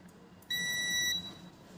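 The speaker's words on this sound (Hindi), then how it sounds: "मल्टीमीटर लगाएंगे बजर रेंज पर।" A multimeter set to its buzzer continuity range gives one clear, steady beep lasting about two-thirds of a second while probing pins 4 and 5 of a phone camera connector during an Infinix GT 10 Pro repair, set against a quiet background.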